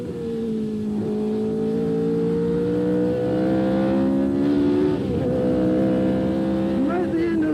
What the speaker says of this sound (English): Accelerating hard. Down into second gear.